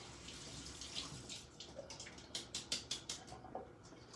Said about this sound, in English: put them under some water